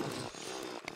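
A mining drill from the game Terraria runs in a steady, loud, buzzing whine that lasts about a second, with slight dips in pitch and no voices.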